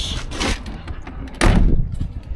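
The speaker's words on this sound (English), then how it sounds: "Around this side, if I lock this door" A door lock on a Land Rover Discovery 300 Tdi clunks shut, with a sharp mechanical click and thud from close by amid handling noises.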